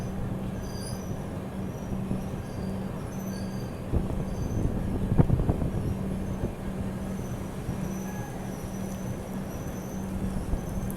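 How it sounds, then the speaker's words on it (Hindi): Pragati Express descending the Bhor Ghats after Khandala station in heavy rain: a steady, loud rumble of wheels and carriages on the track, with a brief surge of clattering and squealing near the middle. "देखो कैसे ट्रेन अपनी अभी डिसेंड कर रही है खंडाला स्टेशन के बाद।"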